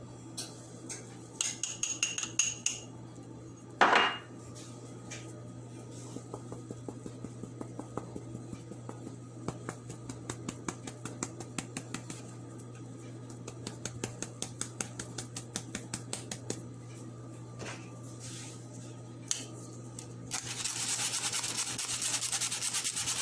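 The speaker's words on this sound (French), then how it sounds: "Je le tamise pour que j'aurai pas des grumeaux dans ma pâte" Cocoa powder being sifted for cake batter, a soft rapid rhythmic tapping and rubbing of a sieve that carries on for many seconds, with a few louder knocks, near and fairly quiet.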